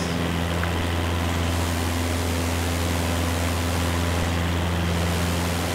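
A small propeller airplane in Microsoft Flight Simulator 2020, flying from Phuket to Koh Samui, Thailand: a loud, unbroken engine drone with a low steady hum throughout, heard alone.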